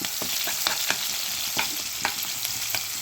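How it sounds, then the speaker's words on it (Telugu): Onions sizzle with cumin in a hot pan, a steady bright hiss broken by repeated scraping stirs, close up with no talk. "సో నేను ఇలాగ ఉల్లిపాయలు వేసి వేయించేసుకుంటున్నాను."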